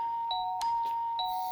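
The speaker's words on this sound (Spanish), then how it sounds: "Toco timbre 2 veces." A cartoon doorbell on 4th Street in Piggy Tales rings twice, each press giving a clear electronic chime about a second apart, with a soft knock-like thump between them.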